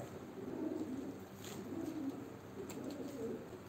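Pigeons coo repeatedly in low, soft phrases at a live pigeon auction for Turkish performing pigeons, a steady murmur of several birds close by with faint higher chirps above and no talk.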